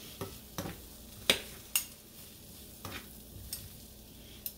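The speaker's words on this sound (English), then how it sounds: "Let these saute." Mushrooms sauté quietly in a pan, a faint sizzle running underneath while a spatula knocks and scrapes against the pan in a handful of separate, sharp strokes.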